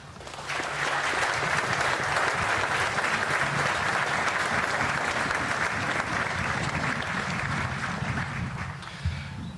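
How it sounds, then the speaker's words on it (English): Sustained crowd applause at an outdoor memorial ceremony honoring fallen California Highway Patrol officers. Dense, steady clapping from many hands begins almost at once and continues evenly for about nine seconds, with no speech over it. "Would you please join me in a round of applause?"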